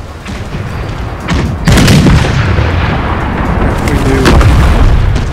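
Ship cannons in the pirate game The Pirates! fire chain shot in a string of deep booms and rumbling blasts over a constant wash of sea and battle noise; a voice briefly speaks.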